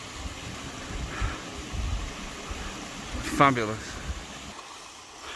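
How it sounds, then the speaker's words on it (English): Steady rushing water from the Blackden Brook waterfall on a rocky Peak District climb, a continuous broadband roar close by, with a brief spoken word and wind over the top. "we have been rewarded with this, the Blackden Brook waterfall"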